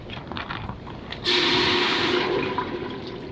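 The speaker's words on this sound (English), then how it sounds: "this is a homemade turkey broth. It's 2 cups, so that's exactly what I need. I'm going to go ahead and throw that in." Homemade turkey broth, two cups, poured into a soup pot, a sudden steady liquid rush starting partway through and continuing to the end, fairly loud and close with no talk.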